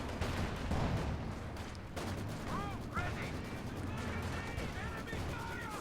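Gunfire and explosions from a World War II strategy video game, a dense run of sharp bursts and rattling shots under continuous commentary.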